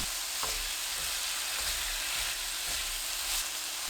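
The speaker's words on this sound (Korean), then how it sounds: "감자가 익으면 양념 넣고 중불로 40초 볶아주세요." Potatoes tossed with seasoning in a hot pan over medium heat give a steady, close frying sizzle with light stirring scrapes, loud and continuous with no talking.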